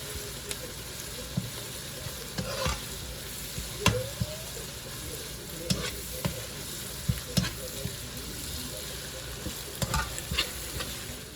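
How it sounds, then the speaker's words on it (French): A spoon stirs chicken with fragrant lumbalumba leaves frying in a pan, giving a soft sizzle under repeated light scrapes and taps against the pan, fairly quiet and with no voices. "nous allons vraiment continuer à remuer tout le temps"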